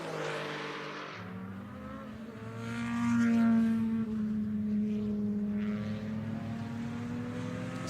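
Race cars from a DRM Revival event at the Red Bull Ring roar past loudly, one engine note swelling to a peak near the middle before trailing off under continuing engine drone.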